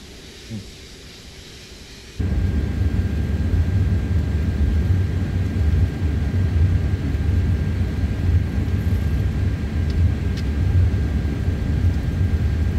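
Simulated Airbus A330 airliner in Microsoft Flight Simulator 2024 on Xbox, a constant broad engine roar and rumble that swells suddenly after a quieter opening and holds steady and loud.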